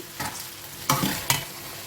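Okra stirred and sautéed in a pan over a soft continuous sizzle, with three or four scraping stir strokes close by, the last two the loudest.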